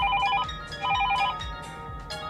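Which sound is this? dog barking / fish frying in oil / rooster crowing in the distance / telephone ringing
telephone ringing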